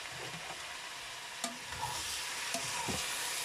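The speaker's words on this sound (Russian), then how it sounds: "Так, у меня тут уже началась жарюха." Chicken fillet sizzles and fries in a pan for plov, with a steady crackling hiss and a few sharp clinks of stirring, no voices.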